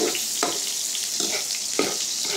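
Garlic and onion sautéing in a pan for Filipino-style spaghetti, a steady close sizzle broken by several rhythmic stirring scrapes, with no talk.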